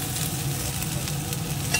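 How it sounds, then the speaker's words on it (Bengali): Pointed gourd pieces fry in hot oil in a pan with a constant close sizzle and light stirring, heard alone for a brief moment. "এই যে পটলগুলো লাল লাল করে এইভাবে ভাজা হয়ে গেছে"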